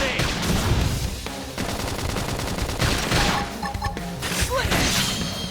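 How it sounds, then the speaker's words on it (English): A flame grenade goes off in the Xenoblade Chronicles X battle, loud crackling and booming blasts amid dense gunfire-like combat noise and game music, with a voice briefly heard. "Flame grenade!"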